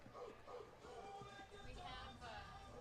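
Recorded dog barks from a song play over the arena sound system at a college field hockey game, a rhythmic series of yips and woofs heard faintly amid crowd noise and speech.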